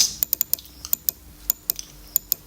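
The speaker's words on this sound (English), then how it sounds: "I can choose lower cases and you can type in everything" Keys clatter on a computer keyboard in quick, irregular bursts of sharp clicks, close and clear with no talking.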